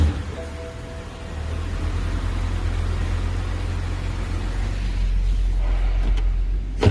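A 2008 BMW X5 reverses, its engine holding a low steady idle-like rumble with faint mechanical whine, close and continuous without talk.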